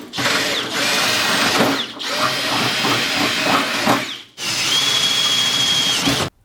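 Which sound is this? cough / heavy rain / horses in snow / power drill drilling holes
power drill drilling holes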